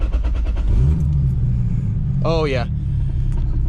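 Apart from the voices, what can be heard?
Toyota Supra 2JZ engine starting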